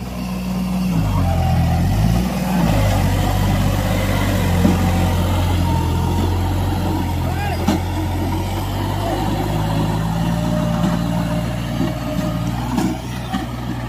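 A New Holland 5620 tractor's engine runs steadily and loud nearby, its low diesel drone rising and dipping with load as it labors. Faint clanks and rattles sit over the rumble.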